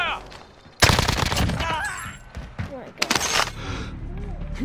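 Gunfire in Call of Duty Warzone: bursts of automatic shots erupt abruptly and loud, with a second heavy burst later, mixed with game effects while a voice talks over it.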